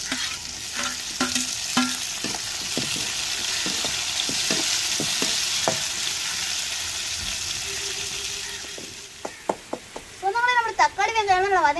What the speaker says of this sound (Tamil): நம்மளுக்கு வெங்காயம் நல்லாவே வதங்கிருச்சுக்கு நம்ம வெட்டி வச்ச தக்காளியை சேர்த்துக்கிறோம்.